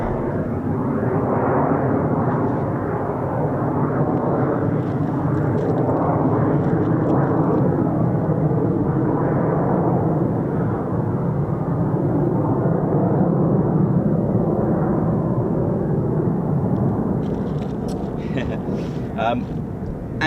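F-35 fighter jets flying at RAF Lakenheath, a loud, continuous roaring rumble that fills the whole stretch, steady and heavy throughout, with faint wind buffeting at the end.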